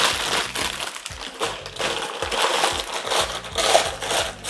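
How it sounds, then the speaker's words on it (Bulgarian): A sheet of kitchen paper is crumpled by hand over roasting lamb in a home kitchen, giving close, loud, irregular crackling bursts that rise and fall for a few seconds with no talk. "Намачквам един лист кухненска хартия."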